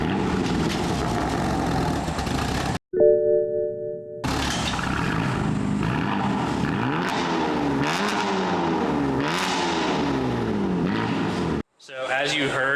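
BMW 335 with quad-tip exhaust and a boost leak, engine revving hard in repeated rising and falling sweeps, loud and close, broken by brief pauses.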